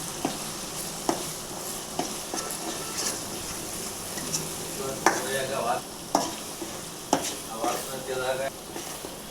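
Ginger sizzling steadily in a pan for a prawn curry, with a metal spatula scraping and stirring through it in repeated strokes, close and fairly loud throughout.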